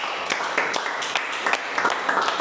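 An audience at an academic session gives a short round of steady applause, a moderately loud, even wash of many hands clapping with no talk over it.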